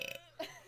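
A short, quiet burp during a casual online video chat between friends, one low guttural belch with a soft tail, heard alone with no talking over it.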